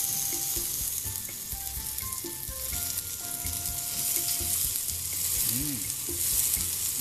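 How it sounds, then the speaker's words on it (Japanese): Beef tripe (gyu mino) in red sauce sizzles steadily in a skillet for home yakiniku, a close, continuous frying crackle with a brief murmur of voice over it. "牛身の赤だれ、こちらを焼いていきたいと思います。"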